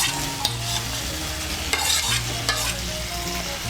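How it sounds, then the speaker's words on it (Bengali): Fried potatoes and pointed gourd being stirred into hot, sizzling spice paste for a Bengali chal potol dish, with steady close scraping and stirring over a continuous frying sizzle and no talking. "আলু আর পটলটাকে মিশিয়ে নেব মশলার সঙ্গে ভালো করে।"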